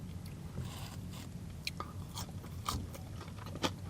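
Crispy Cajun-seasoned fries from a takeaway burger meal being bitten and chewed close up, a few sharp crunches over a steady low murmur, with no talking.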